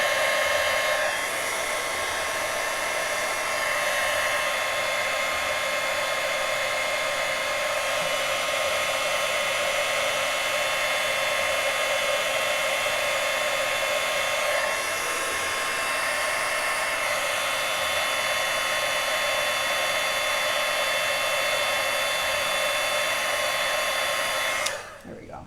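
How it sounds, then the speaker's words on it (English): A heat gun blows steadily while melting powder, a constant close whirring roar with a faint high whine that runs unbroken for the whole stretch and cuts off abruptly at the end. "the longer you use your heat gun, the faster it heats up and the faster it melts"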